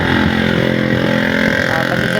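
Motorcycle engine idling at a roadside with passing traffic, a steady, loud and continuous drone throughout with no talk.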